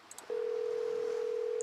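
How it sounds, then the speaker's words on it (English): A steady telephone tone sounds alone in a Nancy Drew video game, beginning with a couple of tiny clicks and then holding one unbroken pitch at moderate volume. "I'm so bad with my phone dials this run."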